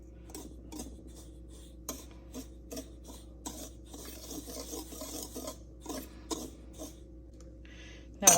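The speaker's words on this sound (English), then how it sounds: "just using a whisk, I'm going to mix everything nicely together." A whisk mixes spices and three kinds of flour together in a bowl for zucchini muthiya, giving quiet repeated strokes and light metallic taps against a low background hum.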